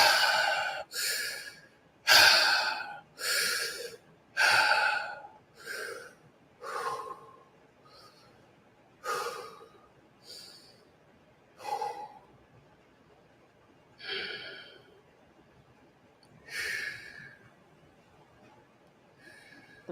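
Rhythmic series of sharp, breathy exhalations during a shallow breathing exercise, about a dozen bursts spaced roughly a second apart, louder at first and then softer with brief pauses, close to the microphone with no talking.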